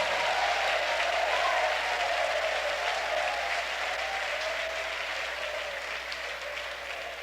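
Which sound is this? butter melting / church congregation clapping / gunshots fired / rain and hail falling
church congregation clapping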